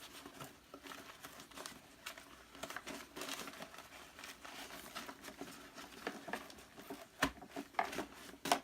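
Paper vacuum cleaner bags are handled in soft, close, irregular crinkles and rustles during a bag change, quiet throughout with a few sharper crackles near the end.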